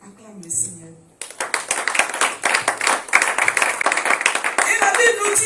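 A church congregation claps in rhythm during a Sunday worship service, with dense, loud, continuous applause-like clapping that begins after a voice speaks briefly at the start.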